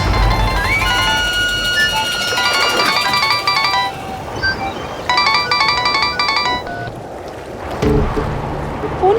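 A phone ringtone plays a bright electronic melody in two bursts before being cut off, heard in an indoor scene from a Hindi courtroom drama on an anniversary evening.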